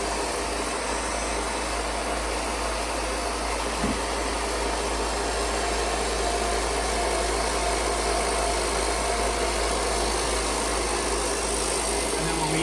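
A mill machine plying three singles into 3-ply yarn runs with a steady, loud mechanical hum and whir that holds unchanged from start to end, a low drone under constant broadband noise.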